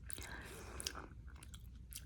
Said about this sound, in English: just chewing gum and popping